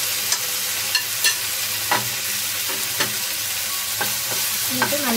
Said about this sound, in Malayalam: എന്നിട്ട് നല്ലപോലെ ഒന്ന് ഇളക്കി കൊടുക്കാം.